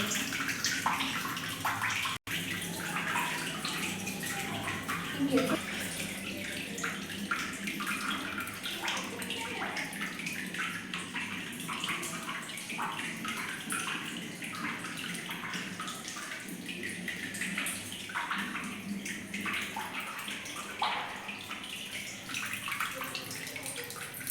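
Dirty water draining out of a Hotstar washing machine, a steady close gushing and gurgling flow that runs on without break, with no talk over it.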